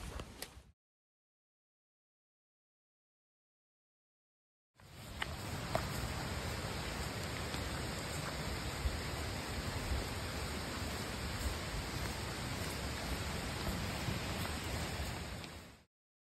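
Steady rain and 40 mph wind roar over the Hunt Trail at Katahdin on the Appalachian Trail, a loud, dense, unbroken rush of noise that cuts in abruptly after a brief sound and a few seconds of silence.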